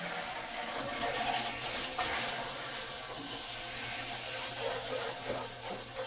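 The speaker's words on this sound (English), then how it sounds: "That sounds to me like there's water flowing." Water gushes from a newly installed well pump, a steady rushing flow with splashing, moderately near and continuous throughout.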